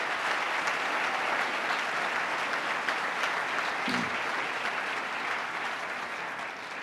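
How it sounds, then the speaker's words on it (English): A large audience at a State of the State address applauds the Comptroller: dense, steady clapping that fills the hall at an even level for the whole stretch, easing slightly at the very end. "Let's give the Comptroller a big round of applause and thank him for his great work"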